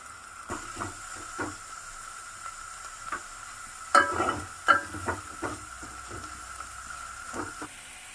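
Stuffed brinjals sizzle softly in a pan, and scattered clinks and scrapes of a spoon sound over a faint steady fry.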